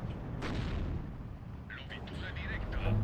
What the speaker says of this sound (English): 60mm mortars definitely trying to put in work, trying to pick off any of the low health infantry squads